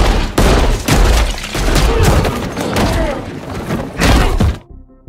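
Gunfire in a zombie film scene, dense bursts of loud shots and booming impacts crowded together over about four seconds, with voices under the action before it cuts out abruptly.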